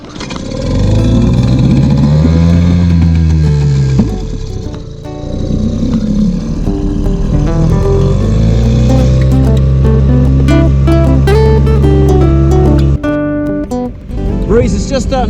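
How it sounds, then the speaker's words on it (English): A small outboard motor on an inflatable boat is pulled and choked, sputtering, revving and settling into a loud, close, uneven drone with pitch shifts and knocks. "I love this little motor. Bit of choke."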